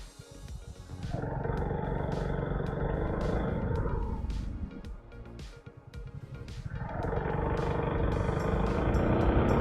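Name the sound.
large vehicle approaching on road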